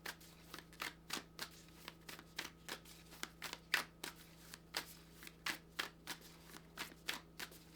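Tarot cards shuffled by hand in a steady run of crisp, close riffling bursts, roughly two or three per second, with a faint constant hum underneath and no talking.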